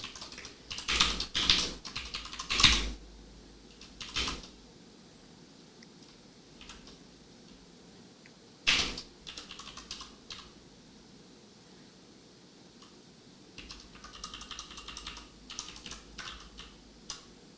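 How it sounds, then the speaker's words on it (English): Bursts of typing on a computer keyboard during a programming session, clustered clicks near the start, a lone burst midway and a softer run near the end, separated by quiet stretches with no talk. "We should be able to type at the same time."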